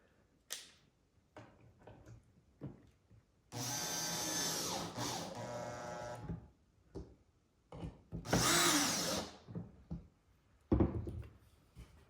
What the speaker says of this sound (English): You just want to seat the screw into the countersink